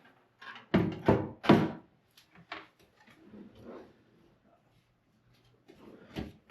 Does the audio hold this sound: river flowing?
no